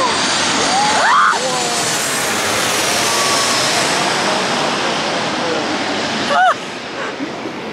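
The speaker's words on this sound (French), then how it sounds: "on s'émerveille de chaque avion qui passe" An airplane passes overhead near an airport beside a roadside villa in Greece, a loud, broad, continuous jet roar filling the whole stretch, with brief voices rising over it near the start and end.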